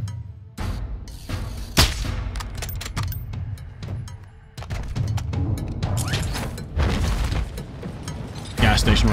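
Shots and booms from a Call of Duty DMZ match ring out in scattered bursts, one sharp crack standing out near the start, over steady background rumble while a player talks throughout.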